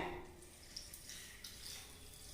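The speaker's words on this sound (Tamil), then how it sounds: "இதில் வந்து நான் தண்ணி விட்டுக்கிறேன்" Water pours into a pot holding finely chopped ginger for a cough decoction, a soft, faint splashing trickle that runs steadily for a couple of seconds.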